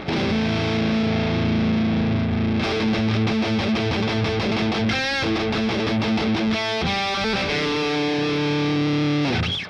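A Telecaster electric guitar played through its bridge pickup with heavy distortion, sustained chords giving way to fast, choppy rhythmic strumming with a brief slide in the middle, loud and continuous throughout with no talking.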